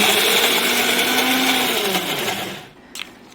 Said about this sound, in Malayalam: കറക്റ്റ് പാകത്തിനകത്ത് നമ്മൾ മിക്സിയിലിട്ട് അടിച്ചാൽ നമ്മുടെ മാങ്ങാ ചമ്മന്തി റെഡി